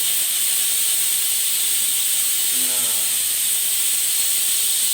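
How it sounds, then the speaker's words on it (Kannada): Steam hissing steadily and loudly from a pressure cooker being opened after three whistles while cooking village-style avarekalu (field bean) sambar, with a brief spoken word partway through. "ಒಂದೇ ಒಂದು ನಿಮಿಷದಷ್ಟು ಕುಕ್ಕರ್ ಕ್ಯಾಪನ್ನು ಓಪನ್ ಮಾಡ್ತಾ ಇದ್ದೀವಿ"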